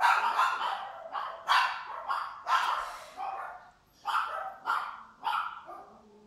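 Several dogs bark in repeated bursts and yips at an indoor home setting, loud and fairly close, with short pauses between volleys and no talking.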